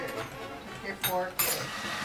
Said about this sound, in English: Take your fork.